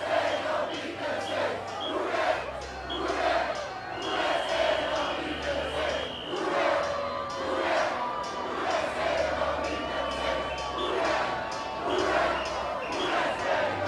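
A large New Orleans street crowd celebrates the Saints' Super Bowl XLIV win, with a steady, dense roar of cheering, shouting and whistles filling the space, punctuated by scattered whoops and a few horn-like tones.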